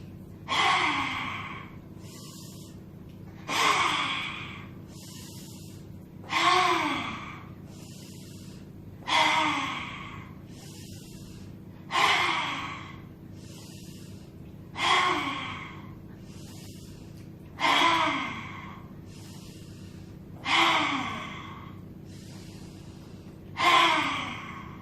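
Nine deep breaths during a yoga exercise for thyroid health, each a sharp, gasping inhale followed by a slow sighing release, repeating steadily about every three seconds, close and fairly loud with no talk.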